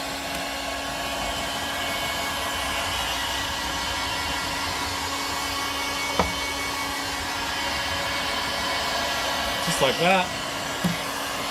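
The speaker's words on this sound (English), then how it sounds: "warm up the door seal with a hairdryer" A handheld hair dryer blows steadily to warm and soften a refrigerator door's rubber seal, a constant close whooshing roar running the whole time with brief clatters near the end and a short spoken phrase.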